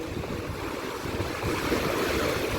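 A steady wash of Adriatic surf rolls on a beach at Durrës, Albania, mixed with blustery wind noise against the microphone.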